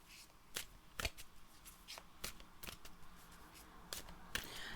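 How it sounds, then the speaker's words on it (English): Tarot cards are shuffled by hand in a run of quick papery riffles and snaps, about ten sharp bursts spread unevenly over a few seconds, close and clear with no talking. "You might see it wobble a little bit as I shuffle the cards"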